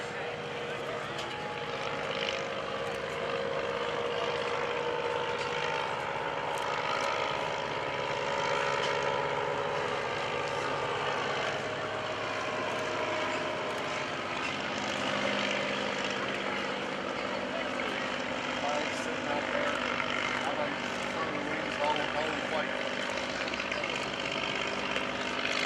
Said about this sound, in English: let you listen to the Curtiss pusher here